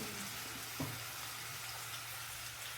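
Ground and chopped onion go into potatoes frying in hot oil for prawn biryani, giving a steady close sizzle with one brief soft plop near the start and no talking.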